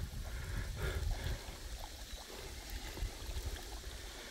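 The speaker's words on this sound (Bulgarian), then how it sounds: "Що ги обичам тия чешми?" Water runs from a village fountain in Paralovo near Bosilegrad, a continuous near trickling and splashing stream heard alone outdoors throughout.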